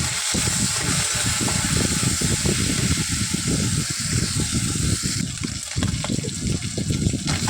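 Shrimp frying and being stirred in oil in a wok, a loud, dense, continuous bubbling sizzle up close with no talk.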